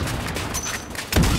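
A sniper rifle shot in a shooting video game rings out as a single loud, sharp report near the end, following a stretch of steady game ambience and a faint ringing tone.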